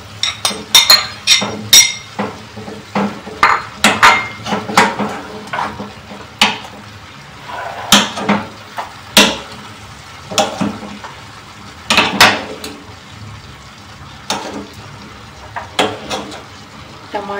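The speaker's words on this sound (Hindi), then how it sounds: "अब हम इसमें टमाटर मिक्स कर देंगे" Vegetables and tomatoes stirred in a pot for a desi-style mixed vegetable dish, with repeated close clinks and scrapes of a spoon against the metal pot over a soft sizzle, in irregular bursts throughout.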